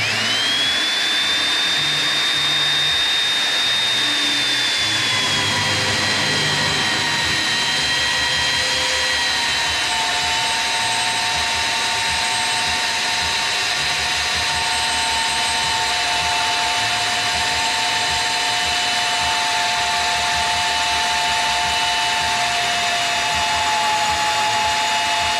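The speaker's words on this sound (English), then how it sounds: "Magnets on, we're ready to drill right now" A magnetic drill with an annular cutter bores a 1 5/8 inch hole through metal with coolant running while restoring a 1986 Kenworth W900B truck, a steady loud whining motor and grinding cut held for the whole stretch.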